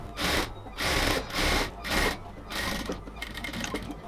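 A sewing machine stitches a folded cotton salwar waistband alongside the elastic, running in short rhythmic bursts of about half a second with brief pauses between, close and moderately loud.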